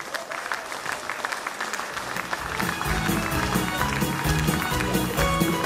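Applause from a school crowd greeting first-graders at a September 1 ceremony, building from a lighter patter into loud, sustained clapping with music playing beneath it.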